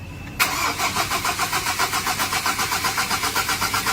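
A Ford Ranger engine cranks over after a brief quiet start, the starter's rapid rhythmic pulsing loud and steady through the rest, with no talk.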